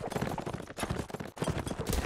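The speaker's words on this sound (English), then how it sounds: "Soda got back on his horse." A horse's hooves clop steadily in a multiplayer video game match as a player gets back on his mount, busy and mid-loud, mixed with other game noise.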